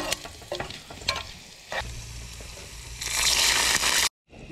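Panch phoron spices hit hot oil with a burst of loud sizzling and crackling, close up, after some brief stirring clatter; the frying builds to a bright hiss before cutting off abruptly.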